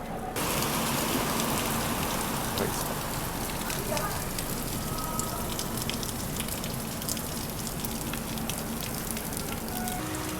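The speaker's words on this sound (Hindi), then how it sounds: "यहाँ तो भाई बारिश बहुत तेज़ हो रही है" Heavy rain pours in a dense, constant hiss with spattering drops on a hard surface at a train stop with little shelter, loud and close, with no speech.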